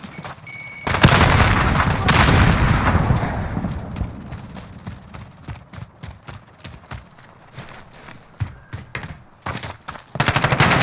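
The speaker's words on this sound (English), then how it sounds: "Throwing grenade!" A grenade thrown in Call of Duty Warzone 2 DMZ sets off a loud close blast that rumbles for a few seconds, followed by scattered gunfire cracks and rapid bursts of shots.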